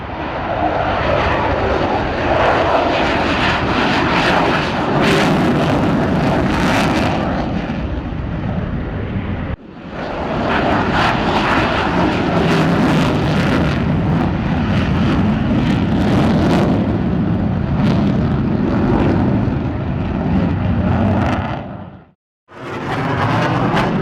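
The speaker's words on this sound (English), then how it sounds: "we have a couple of more Tomcats taking off" Several F-14 Tomcat fighter jets take off at a Naval Air Station Oceana air show, a loud, sustained roar of jet engines that holds steady for over twenty seconds, with one brief dip midway and a sharp drop near the end.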